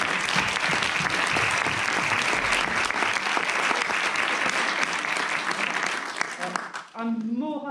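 Sustained applause from a conference audience at a sustainable development month event, a dense steady roar of clapping that fills the hall, then tapers off as a voice begins speaking near the end.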